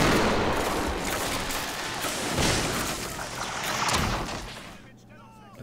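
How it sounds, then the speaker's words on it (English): German mortar fire in the Men of War game pounds in as a dense, continuous barrage of blasts and crackling gunfire, loud and close, easing off near the end. "Looks like I'm taking German mortar fire from the left flank as well."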